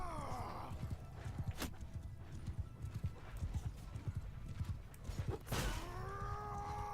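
Rapid clip-clop of galloping hooves with horse whinnies in the video game Bannerlord, over a dense, rumbling game background; a brief whoosh near the end.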